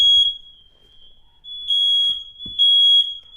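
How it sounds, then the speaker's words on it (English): A smoke alarm sounds in loud, piercing high-pitched beeps, one at the start and then two long pulses, with brief quiet gaps and a faint knock between them. "Fire alarm."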